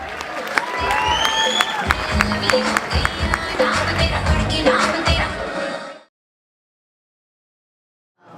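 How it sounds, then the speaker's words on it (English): A graduation audience keeps up applause mixed with crowd noise and cheering for about six seconds, then the sound cuts off abruptly into silence. "Give a big round of applause one more time."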